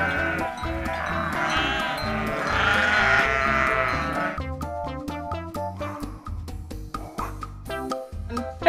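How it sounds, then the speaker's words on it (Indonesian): A goat bleats over a busy cartoon-style music bed during a children's animal-cleaning game, its wavering cry standing out for a few seconds before plucky musical notes take over. "Wow, ini kambing teman-teman."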